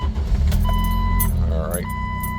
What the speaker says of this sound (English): let's crank the Jeep up and see if that light goes away